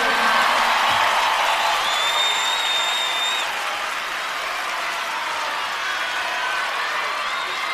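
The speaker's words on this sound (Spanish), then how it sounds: "Un aplauso para vosotros." A large rock concert crowd applauds steadily for several seconds, a dense wash of clapping with a few whoops and cheers mixed in, loud and sustained before it slowly eases off.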